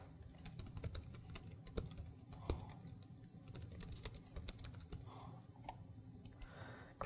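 Typing on a computer keyboard while filling out a form, quick irregular key clicks in bursts, faint and close with a quiet background.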